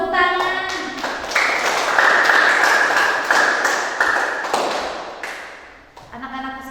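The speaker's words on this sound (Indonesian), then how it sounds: "Tepuk tangan." Children in a classroom clap hands together in a dense burst of applause lasting several seconds, fairly loud and close, fading toward the end, with a teacher's voice heard briefly before and after.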